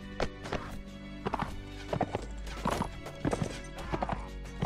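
Cavalry horses gallop in a Mount & Blade: Warband battle with an Imperial Rome mod. A dense, irregular clatter of hoofbeats runs steadily and fairly loud throughout, with no voices.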